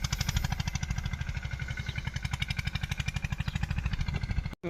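A small farm motor tractor engine chugs close by in a fast, even putter, each beat clearly separate, before cutting out for a moment near the end, in a cotton field.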